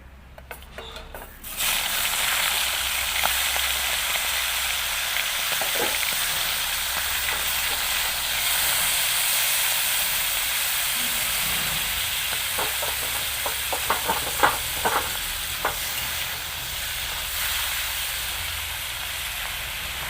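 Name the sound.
remaining prawns frying in oil in a wok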